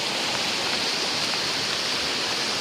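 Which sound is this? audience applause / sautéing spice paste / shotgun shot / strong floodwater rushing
strong floodwater rushing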